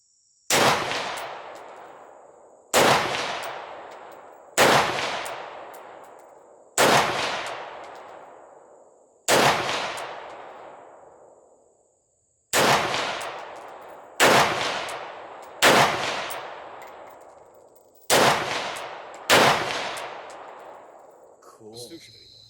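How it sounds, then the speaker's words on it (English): Firearm shots fired down range from new 20-round Duramag magazines, about ten loud, sharp reports each ringing out and decaying, spaced a couple of seconds apart with one longer pause midway. "So let's put some rounds down range"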